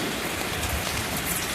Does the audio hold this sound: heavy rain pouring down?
yes